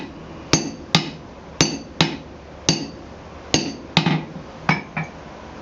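A hammer strikes a hot rivet on a pair of forged blacksmith tongs about ten times, each ringing metallic blow sharp and close, spaced at an irregular working rhythm with a brief decay after every hit.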